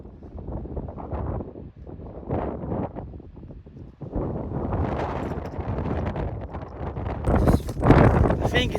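Gusty wind buffeting the microphone on an exposed hilltop near Derwent Edge in the Peak District, a steady broadband roar that swells stronger in the second half, with the occasional sound of someone moving.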